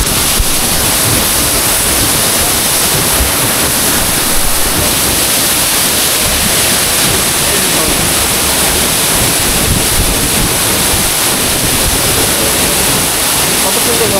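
Waterfall in Sajek Valley roaring loud and close, a dense, unbroken rush of falling water filling the whole stretch with no pauses.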